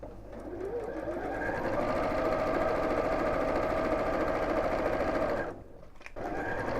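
A sewing machine runs steadily down the side seam of a simple box bag, a continuous close mechanical whir that drops briefly near the end before resuming.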